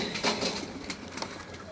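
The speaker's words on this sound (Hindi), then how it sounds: "हर जगह आपने ये कबूतर देखे हैं" Soft pigeon cooing in a few brief murmurs, close by, with faint clatter in the background.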